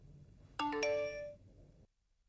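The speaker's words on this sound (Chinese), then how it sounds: "小飞象，接电话呀" A mobile phone ringtone chimes briefly, a bright two-note electronic melody with ringing overtones, fairly close and alone, then cuts to silence.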